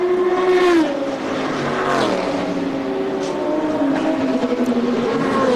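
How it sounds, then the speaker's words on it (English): Audi prototype race car in the American Le Mans Series at the 2008 Detroit street race, passing on track with a loud, sustained engine howl that sweeps down in pitch as it goes by, then other engines rising behind. "And there goes the 7 of Bernhard. He is by"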